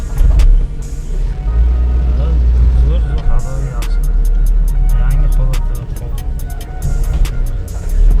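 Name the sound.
Chevrolet Cobalt car being driven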